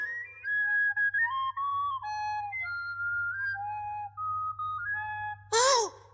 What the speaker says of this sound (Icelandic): Brandur, flautan verkar